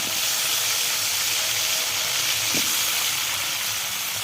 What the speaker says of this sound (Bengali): এই তেলে আমি আলুটাকে ভেজে নেব।